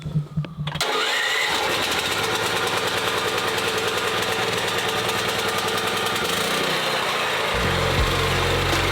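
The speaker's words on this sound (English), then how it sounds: "And then once we turn on the generator, gone. You just hear rumble for the next however long you're working on the job site." Portable generator on a mobile car detailing job site starting up and then running with a loud, steady, close rumbling drone that continues throughout, with a shift in tone near the end and no talking.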